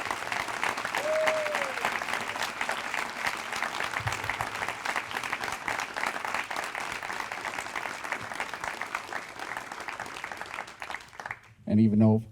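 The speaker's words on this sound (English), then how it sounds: "Now, let's give all these great teachers one more round of applause." Audience at a Teacher of the Year ceremony gives sustained, steady applause for the teachers, followed by a speaker's voice coming in at the very end.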